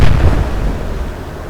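A naval gun salvo fires in the Atlantic Fleet video game, one deep rumbling boom that rolls out and fades over about a second and a half.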